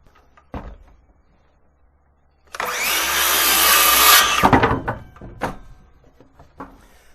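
A power saw rips through a tongue and groove siding board in one loud, close cut of about two seconds, followed by clattering wood handling and a few knocks.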